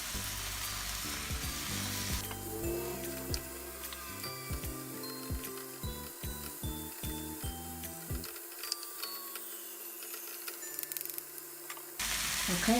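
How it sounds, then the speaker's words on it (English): Tiger prawns sizzle and crackle while stir frying in a pan, a steady close frying hiss with a run of sharp clicks and knocks from handling partway through, settling to quieter sizzle before a louder burst at the end. "flip over the prawn."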